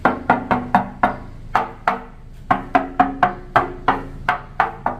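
A metal fuel tank on a Yamaha RX King motorcycle is tapped by hand, giving a series of sharp, ringing knocks in quick clusters of two to four, close and loud with short resonant decays.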